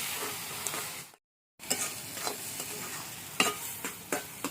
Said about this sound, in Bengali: সমানে নেড়ে চেড়ে যেতে হবে যতক্ষণ না পুরোপুরি তেল ছাড়ছে